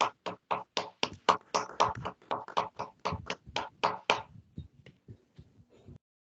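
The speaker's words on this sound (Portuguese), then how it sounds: "Vamos aplaudir?" Audience applause after an algebra seminar talk at a Brazilian university: a small group's crisp, close, evenly spaced claps, strong for about four seconds and then thinning to a few faint taps before stopping.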